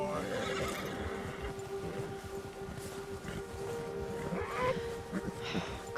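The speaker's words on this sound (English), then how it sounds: "Come on, horse," A horse in Red Dead Redemption 2 neighs over a steady, dense rumble of background noise, with a faint high whinny rising near the end.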